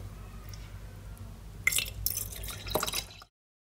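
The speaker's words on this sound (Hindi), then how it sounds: "अब इसमें मैं डालूंगी टी" Tea poured into a glass for homemade bubble tea, a close, soft liquid splash and trickle that swells for about a second and a half before stopping abruptly.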